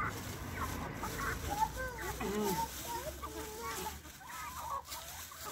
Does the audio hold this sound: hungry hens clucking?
yes